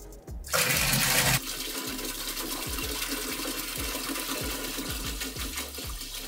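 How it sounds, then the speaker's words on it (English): Water pours steadily into a saltwater aquarium tank during setup, a loud rushing gush at first that settles into a continuous splashing flow, close by, with a rhythmic low pumping pulse beneath it. "Let's add the water."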